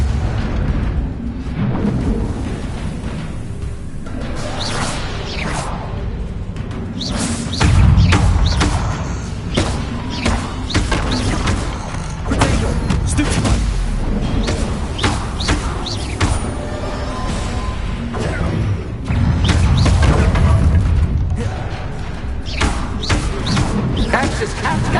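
Repeated Confringo blasting spell explosions in the video game Hogwarts Legacy, booming thuds and bursts recurring over a dense, loud battle mix with music, heaviest around two strong hits.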